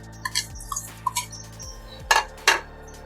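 Chopped onion, green chilli, coriander and spices for besan dahi baray mixed in a bowl, a spoon clinking and tapping in quick, bright knocks, close and clear with little else around.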